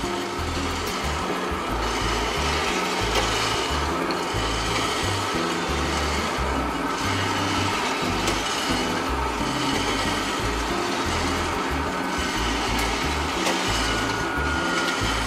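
A Gene Cafe CBR1200 home coffee roaster drums steadily as it roasts beans, giving a continuous rumbling, whirring churn with a constant level and no talk over it.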